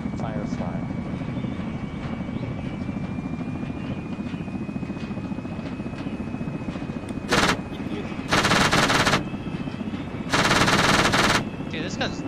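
Short bursts of automatic gunfire from a weapon in the military game Arma ring out over a steady engine drone, with people talking throughout.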